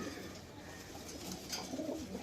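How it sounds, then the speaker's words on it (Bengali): Pigeons coo softly and repeatedly amid faint ambient noise at a pigeon seller's loft, the low throaty calls steady and fairly close throughout. "এই কবুতরটা যে দেখেন নিচে নামছে"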